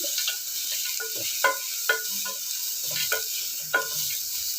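Onion sizzles softly as it sautés in a pan, with intermittent stirring scrapes and small clinks of a utensil against the pan.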